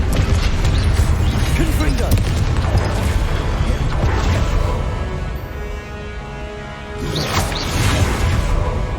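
Fire-blast spell explosions and magical combat in Hogwarts Legacy on PS5, loud dense booms and crashing bursts with whooshes over a constant game soundtrack, a short dip near the seventh second before another blast.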